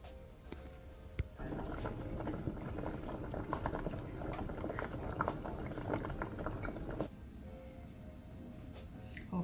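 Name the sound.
potatoes boiling in water until tender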